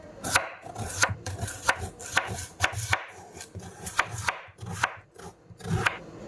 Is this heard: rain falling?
no